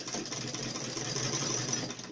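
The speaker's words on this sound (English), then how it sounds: "So yeah, that's my sewing machine." A domestic sewing machine running fast, giving a steady, continuous mechanical whir and rapid clatter with no pauses, heard close up with no voices.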